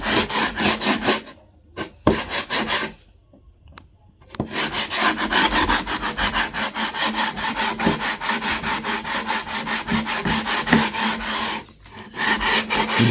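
Rapid back-and-forth rasping as a blade trims the edges of a printed picture mounted on MVF board, loud and close, with short pauses between bursts of strokes.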